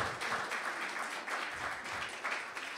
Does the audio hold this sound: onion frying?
no